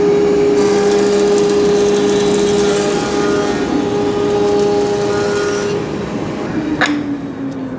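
A Felder CF741S Pro thickness planer runs loud and steady with a humming motor drone while a board feeds through, then the tone drops and winds down near the end.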